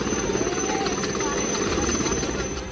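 A helicopter's rotor drone and engine whine stay steady and loud throughout a flood rescue after heavy rain in Warangal district, Telangana, with a voice talking over it.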